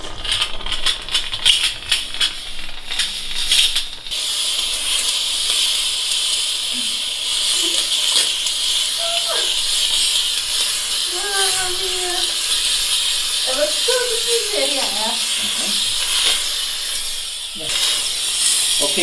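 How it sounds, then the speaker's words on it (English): A Rowenta Clean and Steam Multi steamer, model RY8561WH, set to Max, hisses with a steady, loud broadband rush of steam, with clicks and short rattles early on and faint speech in the background. "now you see the steamer has already turned on"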